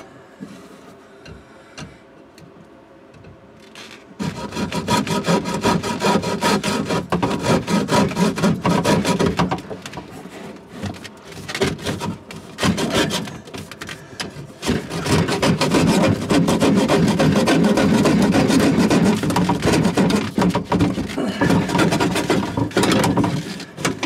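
Hand saw cutting through black ABS plastic drain pipe on an RV, a steady back-and-forth rasping that starts after a quiet few seconds and runs loud and close to the end.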